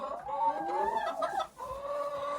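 Backyard laying hens cluck and chatter in a small home flock near a worn old feeder, several birds overlapping in a steady, close run of clucks with no talking.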